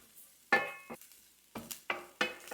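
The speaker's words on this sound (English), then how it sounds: "I'm just going to stir this in for about 30 seconds." A utensil stirs garlic and nutmeg into creamed spinach in a pan, giving several scraping, clinking strokes with a soft sizzle between them, close and moderately loud.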